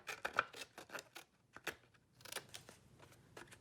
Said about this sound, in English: So as long as I cut it along those lines, I'm all set.